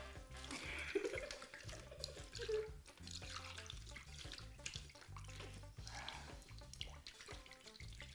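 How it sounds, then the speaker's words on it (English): Coffee poured from a height out of a jabena pot into cups during an Ethiopian coffee ceremony, giving a steady trickling, splashing stream that runs fairly loudly for about eight seconds. "Now, the coffee is poured from quite a height, and sometimes it splashes a little bit"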